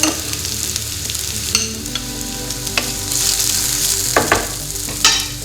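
Chili hits a hot pan for a potato pasta and fries with a steady, loud sizzle, stirred now and then with scraping clicks and brief bursts of crackle, close up and without talk.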